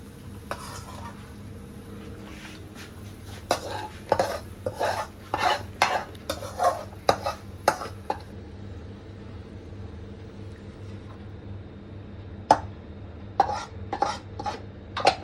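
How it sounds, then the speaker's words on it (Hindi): Potatoes and capsicum frying in a pan and being stirred, with a low steady sizzle under repeated sharp scrapes and clinks of a spatula against the metal, in a busy cluster followed by a pause and then a few more strokes. "तो जी फाइनली आलू शिमला मिर्च हो गई है बहुत बढ़िया से फ्राई"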